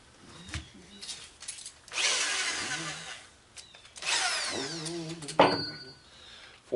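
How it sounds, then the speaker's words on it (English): A power drill bores holes into a piece of pipe in short bursts, each whining burst rising then stopping, heard up close with quiet pauses and a few clunks between. "we are going to drill some holes in it"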